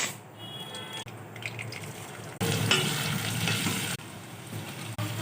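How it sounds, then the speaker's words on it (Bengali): Spices and onions fry in mustard oil in a pan for ghugni, with a steady broadband sizzle that gets louder partway through and continues unbroken, plus occasional stirring scrapes. No one speaks. "এখানে সব মশলা, পেঁয়াজ সব কিছু আমি তেলেতে দিয়েছি।"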